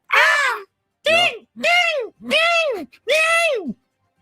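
A man imitates a seagull screech with his voice, giving five drawn-out, raspy calls that come out sounding more like a crow's caw, loud and close with short gaps between them.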